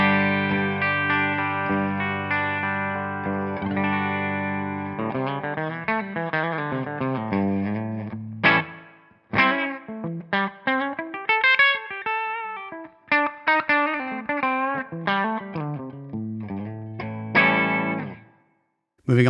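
An electric guitar plays through a Matchless Chieftain amp on the low input with a clean tone, starting with ringing sustained chords and moving into picked melodic phrases with short pauses. No voices.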